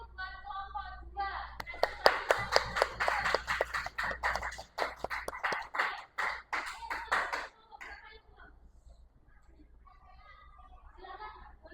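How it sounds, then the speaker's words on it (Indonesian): Classroom applause from students for a presenting group, a burst of dense hand clapping that swells and fades over several seconds, with children's voices chattering underneath and after. "Beri aplaus dulu buat kelompok 2."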